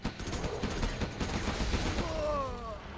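Gatling tank firing in a video game battle, a dense, continuous rattle of rapid automatic gunfire with scattered blasts, fairly loud throughout, with a brief whistling tone near the end.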